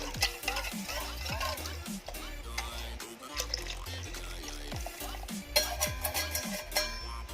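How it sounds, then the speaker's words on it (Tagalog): Powdered cream of mushroom being stirred into pasta sauce for creamy pesto pasta, with steady scraping and swishing of the spoon through the liquid over a light sizzle, continuous and close throughout. "Haluin ko lang siya ulit."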